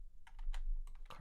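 Quiet, close typing on a computer keyboard during a coding session, with about half a dozen uneven keystrokes in quick succession under a low background hum and no speech.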